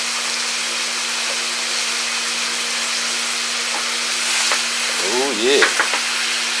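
Picanha steak searing in a hot pan with butter, a steady close sizzle and crackle running throughout, with brief stirring or scraping clatter near the end and someone speaking briefly.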